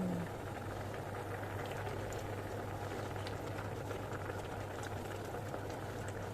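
Water rolls at a steady boil in a pot for cooking udon, a dense continuous bubbling hiss close by with a low hum underneath.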